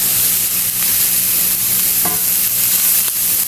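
Cabbage and bacon sauté in a pan with a loud, dense, continuous sizzle and a couple of faint stirring clinks, close up with no voices.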